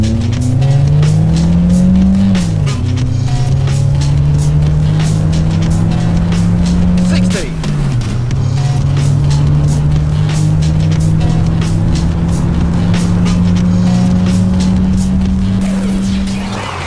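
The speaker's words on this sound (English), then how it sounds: "We'll do a quick 0-60 test." Toyota Starlet Glanza hatchback accelerating hard through the gears in a 0-60 run, engine note climbing loudly, a brief drop at each gear change, then rising again, close and continuous with no talk.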